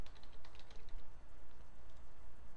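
A password being typed on a computer keyboard, heard as a quick, close run of light key taps, a burst at the start and then steadier clicking over a low room hum.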